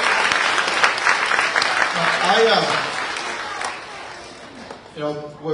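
An audience at a school event at Westchester Hills School 29 breaks into sustained applause, loud at first and tapering off, with a voice speaking over the clapping.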